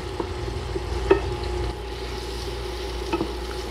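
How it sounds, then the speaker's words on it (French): Mushrooms sauté in a pan for a creamy white wine chicken sauce, a low steady sizzle with a few brief utensil taps and clinks, close and without speech. "on a fait sauter un peu nos champignons"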